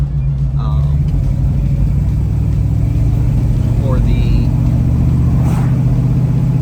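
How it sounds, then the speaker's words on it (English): A car engine idles with a steady, close, low rumble after timing adjustments and a vacuum leak fix around the spacer, with faint squeaks or whines over it and no clear talk. "the car is running really well"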